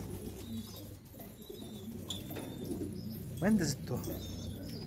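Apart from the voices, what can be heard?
pigeon cooing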